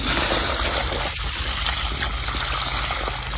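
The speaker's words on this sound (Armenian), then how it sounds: "լցնում եք ջուրը բաժակի մեջ։" Water pours steadily into a cup as a continuous, close gushing and trickling sound with no speech.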